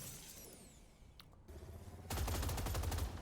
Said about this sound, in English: Heavy repeating plasma cannon that deals greater damage over